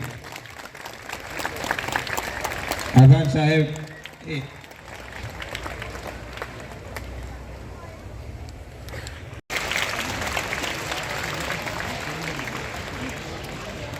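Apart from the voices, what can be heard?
applause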